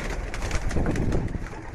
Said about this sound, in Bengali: সব কবুতর বের হয়ে উপরে চলে যাচ্ছে।